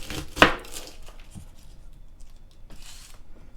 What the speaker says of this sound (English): we're just going to go ahead and take off 1/3 of the garlic